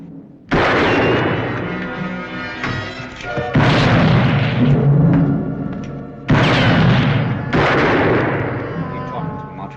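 Gunshots in a Western radio drama about Wyatt Earp: three loud, booming shots, each with a long ringing decay, close and dominant.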